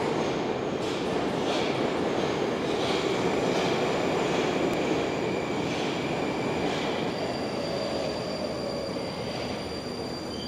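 A Moscow metro train runs through a station with a loud, continuous rumble. Wheels rattle and clack rhythmically, and a faint high squeal runs over the roar for the full length.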